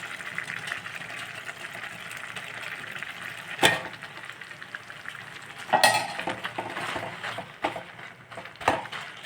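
Masala-coated beaten rice (aval) stirred and scraped in a pan over a low flame for tamarind aval, a soft continuous sizzle with a few sharp spoon-on-metal knocks, close and without talk.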